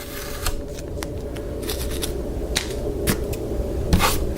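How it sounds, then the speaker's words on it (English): Masking tape peeling off a plastic Intellivision console case, a series of short ripping and crackling strips at close range over a faint steady hum, with no speech. "So let me take my tape off here."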